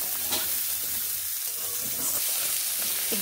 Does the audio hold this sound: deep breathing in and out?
no